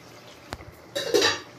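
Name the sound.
lid being taken off a cooking pan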